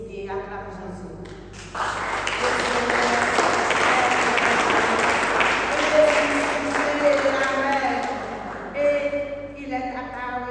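Sustained applause from a church congregation swells after a spoken line and holds steady for several seconds, with a voice talking over the clapping.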